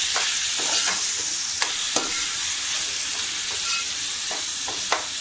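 Tomatoes fry with ginger and garlic in a pan for chicken keema, a steady close sizzle broken by repeated scraping clicks of a spoon stirring every second or so.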